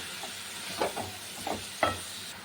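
Banana flower stirred and frying in a spice masala, a faint hissing sizzle broken by a few soft scraping stirs of a spoon against the pan.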